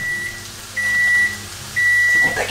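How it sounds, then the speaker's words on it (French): A microwave oven beeps three times after heating a steak, each tone long and evenly spaced, loud and close in a quiet kitchen. "J'ai cuit mon steak au micro-ondes."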